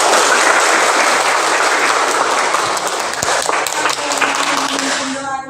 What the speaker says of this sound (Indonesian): Tepuk tangan sebanyak-banyak.